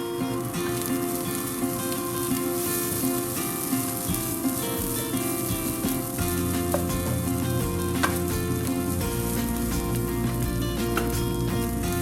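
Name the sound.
crumbled puttu being stirred into masala in a pan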